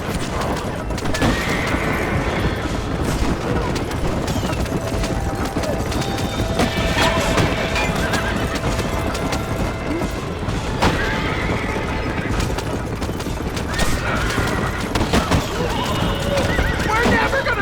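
A horse-drawn coach gallops in the video game Red Dead Redemption, with constant hoof clatter, repeated loud whinnies and scattered gunfire under shouting voices.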